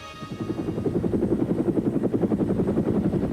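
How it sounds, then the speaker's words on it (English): Bell H-12 piston-engine helicopter, an early-1950s research and development utility machine, runs loud and close, its rotor beating in a steady, even thump over a continuous engine drone. "This is the Bell H-12, an early 50s research and development utility helicopter"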